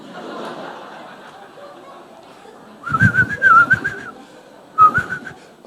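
A person whistles a few short, bright bursts over faint background voices and room noise, with a second brief whistle a moment later.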